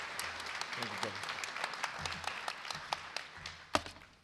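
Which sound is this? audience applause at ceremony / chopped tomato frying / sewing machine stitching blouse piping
audience applause at ceremony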